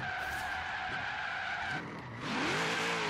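A Ford F100 rat rod in Forza Horizon 3 slides with a sustained, steady tire squeal over engine drone. Near the end a brief shift gives way to a rising engine note, loud and close.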